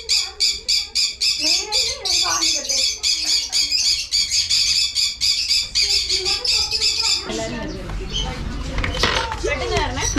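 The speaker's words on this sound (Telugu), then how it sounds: "బర్డ్స్ ఉన్నాయి, ఇంకా చాలా మంచిగా ట్రైన్ చేసిన పిజియన్స్ కూడా ఉన్నాయి." Pigeons and other caged birds at a pet shop give rapid, repeated squawks and calls, loud and close, with a busier clatter of calls near the end.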